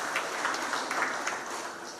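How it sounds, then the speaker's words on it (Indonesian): Applause for the deputy governor at a Jakarta government gathering, a dense, even wash of many hands clapping from a large audience, sustained throughout without pauses. "tepuk tangan juga untuk Pak Wagub"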